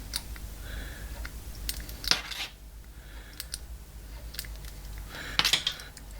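Satellite coax cable has its outer insulation cut away. Quiet close snips and crisp clicks come in a few short bursts, with two sharper cuts standing out against near silence and no talk.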